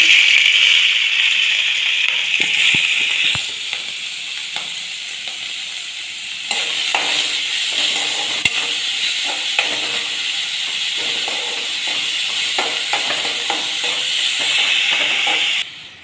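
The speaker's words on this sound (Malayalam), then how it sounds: "ചീനച്ചട്ടിയിലേക്ക് കുറച്ച് എണ്ണ ഒഴിച്ചു കൊടുത്തിട്ടുണ്ട് നമുക്കിനി ചോപ്പ് ചെയ്ത് വെച്ച് ഉള്ളിയും പച്ചമുളക് കറിയിലേക്ക് ചേർത്ത്" Chopped onion and green chillies fry in oil in a pan with a steady, loud sizzle and hiss that continues throughout, broken by occasional stirring clicks and scrapes before the frying cuts off at the end.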